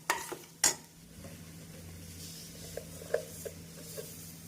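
A spoon scrapes and clinks in a pan while sugar is stirred into orange kesari, a couple of sharp metallic knocks early followed by soft scraping and small taps under a low steady hum.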